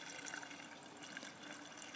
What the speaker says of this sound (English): With the other half of the can, you can fill through the watering tube at the top of the box.